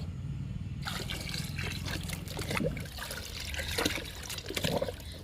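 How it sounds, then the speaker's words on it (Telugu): Homemade liquid fertilizer poured onto the loosened soil of flowering plants, including a jasmine: a trickling, splashing flow of liquid that starts after a short quiet moment and goes on unevenly, with small surges, close by and moderately loud. "ఇప్పుడు ఈ లిక్విడ్ని పూల మొక్కలకి మట్టిని లూజ్ చేసి పూల మొక్కలకి ఇచ్చేద్దాము"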